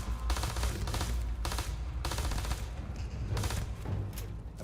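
Kraken gun firing in the video game Starfield, loud rapid bursts of automatic fire in several long volleys separated by short gaps, close and continuous.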